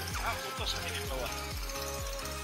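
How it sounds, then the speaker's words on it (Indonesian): Repeated grinding, juddering scrapes of an excavator's heavy metal bucket against rock, close and loud over a droning engine, with voices talking throughout. "itu bunyi kriak-kriak tuh, kena batu."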